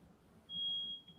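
Single high-pitched electronic beep from a home smoke detector, faint and somewhat distant over a quiet room background, with no voices.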